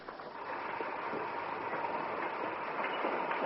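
A steam water train rumbles steadily along the rails as a radio drama sound effect, with a continuous rolling roar and faint rhythmic clatter of wheels throughout.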